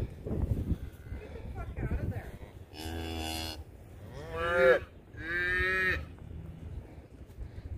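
Beef cattle, cows with calves, give three loud drawn-out moos in a row, each lasting about a second, over wind-like rumble and a person speaking quietly at the start.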